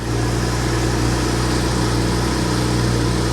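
A 2013 Porsche Boxster with its check engine light on runs steadily close by, a continuous, loud, even engine drone with no talk over it.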